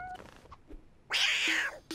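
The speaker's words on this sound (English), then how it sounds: "But she's a cat." A cartoon cat lets out a single loud, drawn-out meow near the end, after quiet scattered sounds, with another short sound cutting in at the close.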